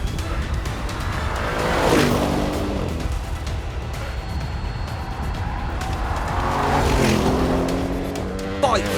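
An Audi race car and a motorcycle race on a circuit. Engines roar loudly as vehicles sweep past twice, rising and falling in pitch, with tire noise and a steady din of track sound.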